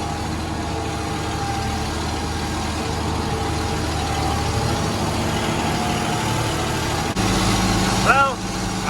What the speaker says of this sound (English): I have an exhaust leak to fix, but I really like this tractor